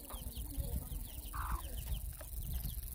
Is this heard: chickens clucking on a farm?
yes